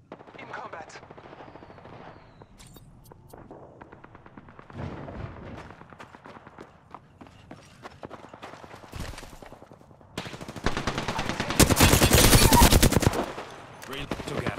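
Gunfire in the video game Apex Legends: bursts of rapid automatic shots and single cracks, growing to a loud sustained volley near the end, with a voice talking over parts of it.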